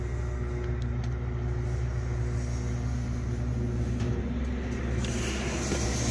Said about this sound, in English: except for these big dump trucks driving past us.